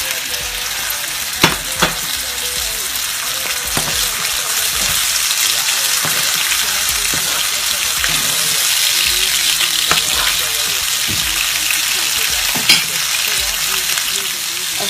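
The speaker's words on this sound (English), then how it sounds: "as my kidney is cooking" Kidney pieces fry in a pan for Ghanaian kidney kebab with onions, giving a loud, steady sizzle throughout and occasional sharp clicks from stirring.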